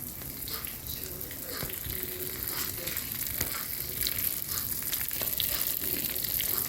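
Potatoes with meat sizzle and crackle steadily in a hot pan, a continuous bright hiss with scattered pops and occasional stirring noises.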